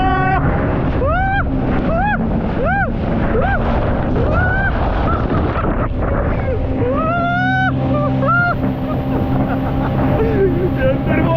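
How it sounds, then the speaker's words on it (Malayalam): A jet ski speeding across open water near Kochi gives a steady, loud, close engine roar with rushing spray throughout, while excited voices call out over it. "എന്റെ ഫസ്റ്റ് ജെറ്റ് സ്കീ എക്സ്പീരിയൻസ് ആണ്"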